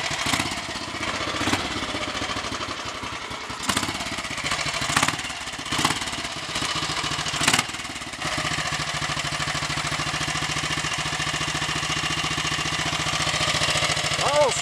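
A 1955 Royal Enfield 500 Greenlaner motorcycle single-cylinder engine idling steadily after a long layoff, a loud close thumping chug with a few sharper bursts early on, then an even run.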